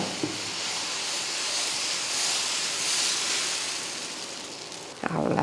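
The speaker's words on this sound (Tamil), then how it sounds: "அடுத்த தோசை ஊற்றிக்கலாம்." Dosa batter sizzling on a hot pan, a steady broad hiss that runs unbroken at moderate level, with a brief clatter near the end.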